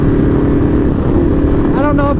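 A Yamaha V-Max motorcycle's exhaust roars loud and steady throughout, a constant deep drone with wind noise, and a brief rising whine near the end.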